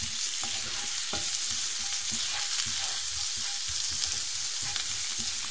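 Finely chopped shallot sizzles in melted butter in a frying pan, a continuous crackling hiss with light stirring taps scattered throughout, close and unaccompanied by speech.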